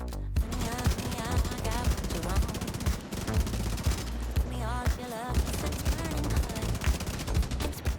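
Rapid bursts of Carbine 7 rifle fire in the video game The Division 2 rattle continuously and loudly, dense automatic shots with game effects and no pauses beyond brief gaps.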